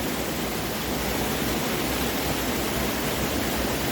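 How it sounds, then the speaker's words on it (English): Clean creek water rushing steadily close by, a dense, even hiss with no breaks or variation. "It's kind of nice having this beautiful clean creek right here just to rinse off real quick."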